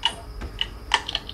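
Quick, sparse clicks of game controller buttons during a Skate 3 session, a handful of light taps spaced unevenly and close to the mic, with no voices.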